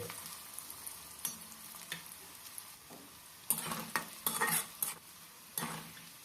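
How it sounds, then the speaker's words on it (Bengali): Soft sizzling of chopped onions lightly frying in a pan with intermittent stirring and scraping of a utensil, louder bursts toward the end, no talking. "পেঁয়াজটা হালকা ভেজে নিতে হবে"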